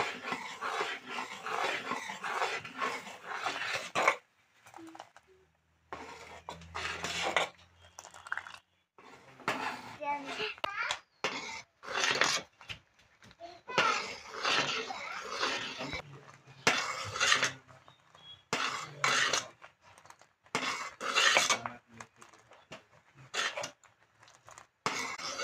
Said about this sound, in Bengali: গাখিরটা অনবরত লাইরে থাকুন যাতে হাঁড়িটার তলে লাগে না ধরে